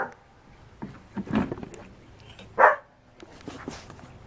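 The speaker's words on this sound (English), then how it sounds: "excuse my dog, he's got a loud mouth today." A dog lets out a couple of short barks at a distance, sitting over low background noise in a workshop during engine work on a small-block Chevy.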